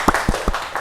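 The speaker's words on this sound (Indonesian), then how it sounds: "tepuk tangan dulu." A few hand claps from an audience at an Indonesian school or group event, sounding as several sharp separated bursts close by in a short stretch.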